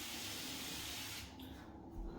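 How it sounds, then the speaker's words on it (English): Spray cleaner hisses in a steady continuous burst onto the outside of a bathtub, close and moderately loud, then tapers off near the end. "And then I'll spray the outside."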